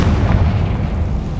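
Confringo fire-blast spell from Hogwarts Legacy, a sustained, heavy low rumbling burst holding steady at loud level with no talk.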